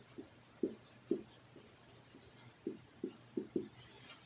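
Pen strokes on paper while writing numbers for a decimal addition and subtraction lesson, a quiet series of short scratchy taps in uneven clusters, close and alone.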